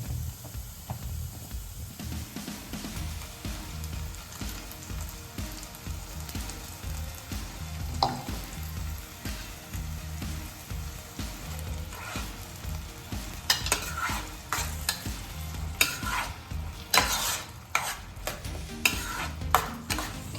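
Paste for an egg gravy frying and sizzling in a pan while being stirred, with a steady hiss and scraping spoon strokes, sharper clattering scrapes growing more frequent toward the end.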